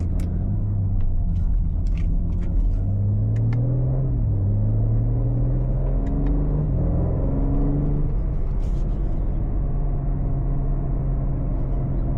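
2025 BMW G80 M3 LCI engine during break-in driving, a steady low drone that rises and falls through gentle acceleration, moderately loud in the cabin.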